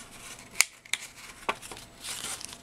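Scissors snip paper card for a handmade friendship card, a few sharp separate cuts close by over a quiet background, with no talk.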